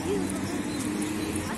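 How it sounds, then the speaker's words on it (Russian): Birds chirping and cooing on a busy central city street on a spring day, faint and mixed into steady street noise, with a person talking over them. "Птицы поют"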